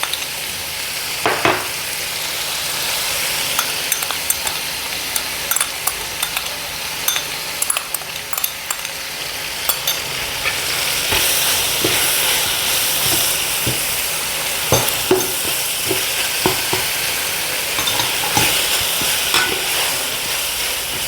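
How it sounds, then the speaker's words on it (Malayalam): Sliced onions with a pinch of salt, plus ginger and garlic, frying in a pan: a steady loud sizzle broken by repeated stirring scrapes and clatters. "ശകല ഉപ്പ് സവാളയ്ക്കകത്തോട്ടിട്ട് അതൊന്ന് എളുപ്പമൊന്ന് മൂത്ത് വരട്ടെ"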